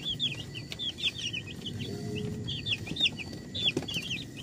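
Chickens and chicks cluck and cheep close by in short repeated bursts, the high peeping chirps coming in quick clusters over a low rustling farmyard background.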